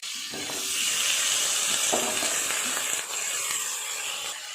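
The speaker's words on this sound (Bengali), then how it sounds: "লাল লাল করে ভেজে নেব কপিগুলো।" Cauliflower florets frying in oil in a pan until browned, a loud steady hiss and sizzle close by with a few light clinks.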